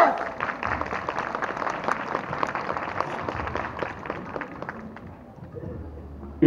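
An audience claps along steadily at a summer festival dance performance, a dense, even patter of hands lasting several seconds before fading, with a louder hit right at the end.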